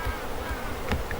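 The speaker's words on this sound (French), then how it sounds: "je vais faire tomber l'essaim" A honeybee swarm hums in a dense, continuous buzz as it is shaken down into a net outdoors, close and steady with a brief louder burst partway through.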